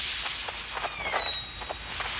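High-pressure gas bursting from a volcanic fumarole vent, recorded through the ground, gives a steady hissing rush with a thin high whine sliding slowly downward, like a blade cutting polystyrene, loud and close with no voices.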